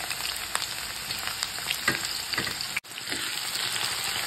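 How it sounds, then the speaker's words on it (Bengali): Onions fry in hot oil for haleem, crackling and sizzling continuously and close, with small spattering pops throughout and a brief dropout near the middle, no talk. "তেল দিয়ে এখন আই পেঁয়াজ ইন্দি দিই"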